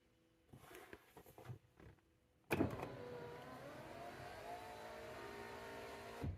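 Ford Mustang power window motor running, a few faint clicks and taps, then an abrupt start into a steady whirring hum that holds for several seconds, close and fairly quiet, with a small bump at the end.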